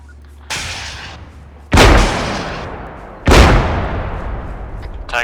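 Rocket strikes on a tank in a military shooter game, two loud sharp blasts roughly a second and a half apart, each decaying into a long rumbling tail, after an earlier softer thump.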